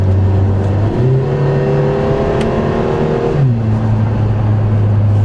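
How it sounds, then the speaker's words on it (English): A Lotus Emira sports car engine drones loud and close at a steady rev, with a quick gear change near one second and another near three and a half seconds, each marked by a brief dip and shift in engine pitch. "You want to hear how quickly this thing shifts?"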